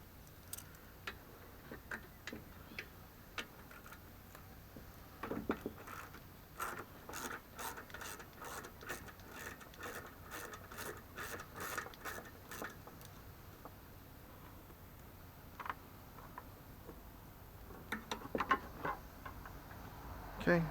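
A ratchet wrench loosens the gas tank bolt on a Briggs & Stratton 190 cc mower, giving faint, rapid ratcheting clicks in repeated bursts with small metallic knocks in between.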